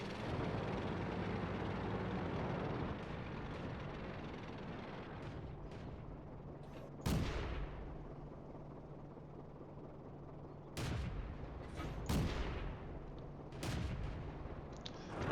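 Tank cannon shots from a Vickers Medium Mk.II in World of Tanks: four sharp, loud blasts in the latter half, spaced a second or more apart, over a steady low engine rumble.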